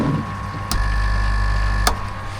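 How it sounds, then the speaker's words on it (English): Pond air pump with worn-out diaphragms runs as a steady low hum with a faint buzz, broken by two sharp clicks or knocks about a second apart, no talking. "So the pump's actually working. The diaphragms are gone on that one now as well"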